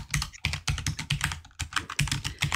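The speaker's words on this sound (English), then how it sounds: "And it's easy as typing each line in." Rapid typing on a computer keyboard, close and crisp, keystrokes arriving in quick bursts with brief pauses between them.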